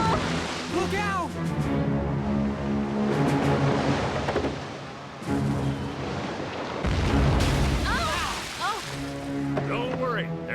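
Cannon shots from a British frigate firing on a ship at sea in a cartoon, heavy booms and rumbling blasts mixed with splashing water and surf, with voices shouting over the barrage.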